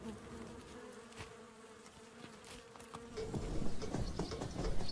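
Wild bees buzz steadily at close range near people's homes, a continuous insect drone with a few soft taps, growing a little louder and busier toward the end.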